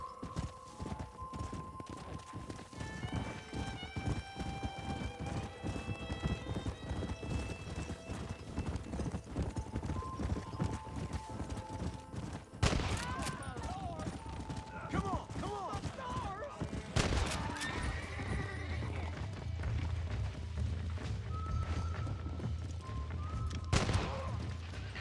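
Horse hooves clip-clop steadily in the video game Red Dead Redemption as a rider travels, with neighs and bursts of in-game gunfire. The hoofbeats run continuously under game music and effects, and the rhythm shifts midway.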